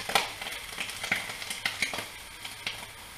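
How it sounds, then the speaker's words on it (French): Bacon lardons sizzle in a pan as they are stirred, a steady close frying hiss broken by light scraping and clinking strokes. "donc il faut juste les touiller un petit peu"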